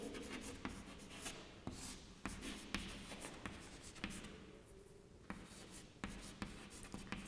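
A teacher in a Hindi class writes on a board in a close, continuous run of scratchy strokes, with sharp taps where each stroke starts. No one speaks.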